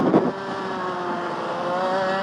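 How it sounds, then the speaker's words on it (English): IAME Parilla kart engine accelerating on a track, a buzzing two-stroke note rising steadily in pitch after a brief rough burst, close and continuous without speech. "Kart is picking up nicely. Doesn't bog down too much."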